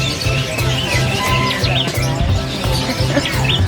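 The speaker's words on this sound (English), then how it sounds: "Oh, take a look at these birds." Many small birds chirp and tweet at a bird market in Yogyakarta, Indonesia, over a busy, noisy background, with bright high calls scattered throughout and a low rhythmic hum underneath.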